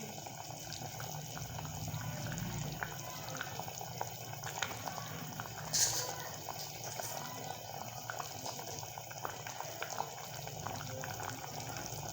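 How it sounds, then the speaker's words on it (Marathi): Sour chuka (sorrel) dal comes to a boil in a pot on a gas stove, giving a steady, soft bubbling and simmering hiss throughout with one brief louder splash, and no talking. "मस्तपैकी आपल्या वरणाला उकळी आलेली आहे"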